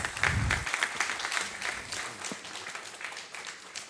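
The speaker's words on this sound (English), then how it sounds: "Please welcome him with a round of applause" A conference audience at the World Non Ferrous Conference inaugural session gives a round of applause welcoming a speaker, a sustained, even wash of many hands clapping that fades gradually, heard from within the hall.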